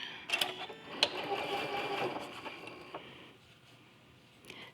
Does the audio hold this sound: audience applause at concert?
no